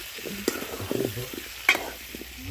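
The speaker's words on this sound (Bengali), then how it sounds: "আলুগুলো দেয়া হলো তারপর সবগুলো নাড়িয়ে" Sweet potatoes frying in a pan give off a soft, continuous sizzle, broken by a few sharp scrapes and taps as a spoon stirs them, with no talk.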